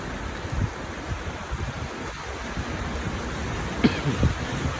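Rain falling on a street in Riga, Latvia, a steady soft hiss with light wind and a few faint scattered taps, low and continuous throughout.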